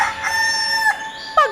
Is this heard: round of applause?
no